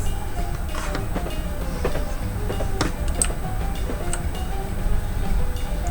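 A Class 321 train in a train simulator game rumbles steadily along with a low drone, punctuated by irregular metallic clicks and clacks from the wheels on the track.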